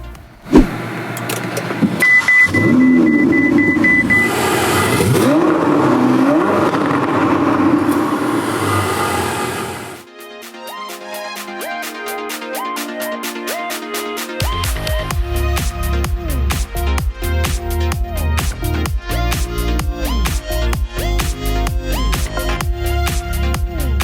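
A Ferrari 488 GTB is driven, its engine droning loudly and steadily for about ten seconds before fading. Rhythmic music then takes over for the rest of the clip.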